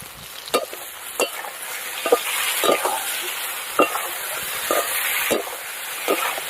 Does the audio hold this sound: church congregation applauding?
no